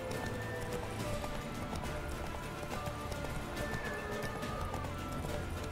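Roach, the horse in The Witcher 3 video game, gallops with a continuous rapid clip-clop of hooves, loud and steady throughout over dense game sound.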